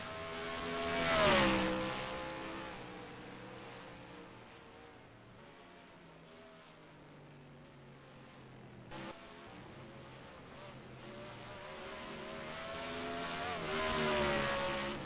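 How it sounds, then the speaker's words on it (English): Stock cars racing at Infineon Raceway in the game NASCAR Racing 2003: engines roar past loudly, fade into a steady distant drone, then swell again as another car approaches. "They're trying to catch up back up to that bumper, Ricky J here."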